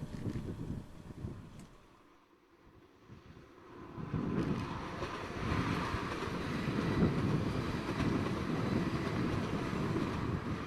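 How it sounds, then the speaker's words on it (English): A Class 802 passenger train rumbles past at a steady, fairly close roar on the East Coast Main Line at Marholm, with broadband rushing noise that swells after a brief lull and holds to the end. "Trains Paragon Class 802 heading north on the Stamford down slow."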